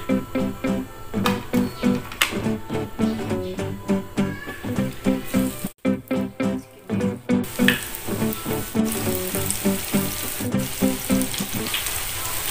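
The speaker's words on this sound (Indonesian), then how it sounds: "Nih ya guys, kita goreng, minyaknya sudah panas ya." Cheese rolls frying in hot oil give off a steady sizzling hiss that runs throughout, alongside rhythmic background music.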